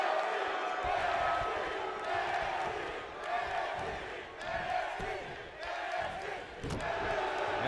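Wrestling crowd in an arena chanting for CG Ghost, a rhythmic swell of many voices repeating in a steady cadence, with ring thuds and slams underneath.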